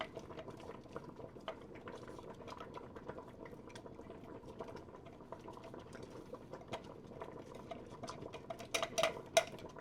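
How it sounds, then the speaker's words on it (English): Thick green tomato salsa bubbling and popping in a pot, a steady simmer with a few sharper clinks of utensils toward the end. "Our salsa mixture is boiling"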